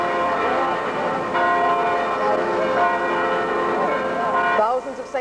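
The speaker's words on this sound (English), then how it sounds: "The bells ringing at St. Louis Cathedral" Church bells peal at St. Louis Cathedral, a steady wash of overlapping ringing tones that sustains loudly throughout, with a brief shift near the end.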